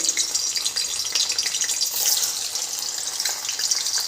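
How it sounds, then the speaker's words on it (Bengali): Paneer frying in hot oil after whole spices and bay leaf were crackled, a bright, dense sizzle with crackling pops, close and continuous for a few seconds. "পনিরটা প্রথম ভেজে তুলে দেবো"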